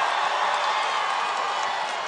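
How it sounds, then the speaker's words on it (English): A rambunctious crowd at a Trump rally in Tucson cheers and roars continuously, a dense, steady wall of voices and whoops with no break. "This is a rambunctious crowd."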